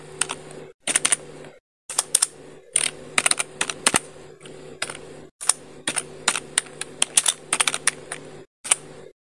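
Typing on a computer keyboard comes in quick bursts of crisp, close key clicks separated by short pauses, with no talk.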